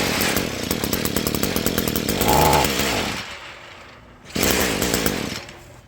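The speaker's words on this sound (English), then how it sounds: "let's see if we can get her to idle and warm up a bit" An Echo string trimmer engine, a weed eater that has not run in a while, buzzing loud and close with a raspy two-stroke drone, dropping off briefly before picking back up.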